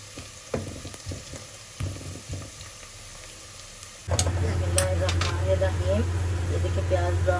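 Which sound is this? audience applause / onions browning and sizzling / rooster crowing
onions browning and sizzling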